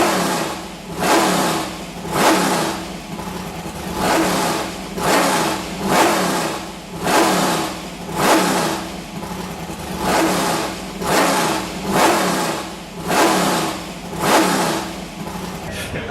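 A 1960s-built Formula 5000 racing car engine revs hard and repeatedly at Albert Park, rising and falling in a steady cycle of loud, raw bursts, close and continuous throughout.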